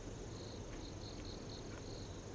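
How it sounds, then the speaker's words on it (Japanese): Repeated bright ringing chirps from bell crickets (suzumushi) kept at home in autumn come in short bursts of similar length, fairly close and steady against a constant noisy background. "うちのね、なんかスズムシですかね"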